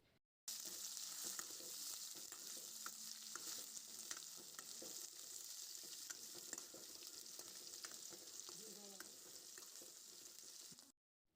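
Onion and lengthwise-cut ivy gourd pieces frying in a pan, giving a continuous hissing sizzle with occasional stirring clicks, close and steady and without speech.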